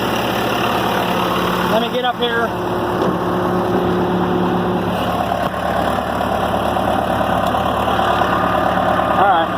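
A 1979 Case 580C tractor engine idles steadily and close by throughout, running smoothly with a low constant rumble, someone talking briefly over it.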